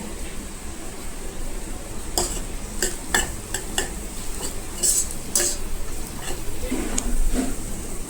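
A spoon stirs ginger-garlic paste and turmeric frying in a pan for a chicken gravy, giving a steady clinking and scraping over a low sizzle, close and moderately loud, with no voices.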